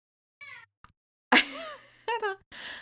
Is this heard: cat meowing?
yes